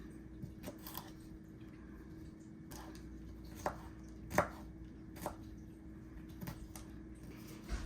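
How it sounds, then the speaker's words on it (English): A knife chopping small serrano peppers on a cutting board, faint, irregular cuts with a few sharper knocks standing out against a quiet kitchen background. "So I'm just going to cut these up a little bit for him."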